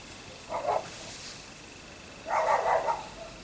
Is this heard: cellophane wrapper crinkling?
no